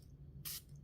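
A short, bright spritz of Drakkar Noir cologne from a 1987 bottle, a single burst of about a tenth of a second over a faint low hum.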